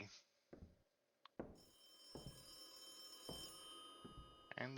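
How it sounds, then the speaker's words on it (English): A telephone rings in the horror video game Charon's Staircase, sounding as a few spaced bursts of bright ringing amid quiet, sparse background with faint thuds and a soft voice. "And the phone's ringing."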